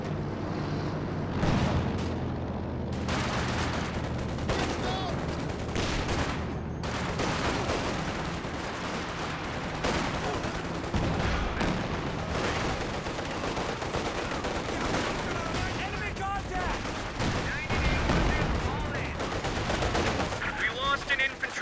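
Dense, sustained gunfire from a captured machine gun in the Company of Heroes 2 strategy game, loud rapid bursts layered with explosions and booms throughout, with a commentator talking faintly underneath.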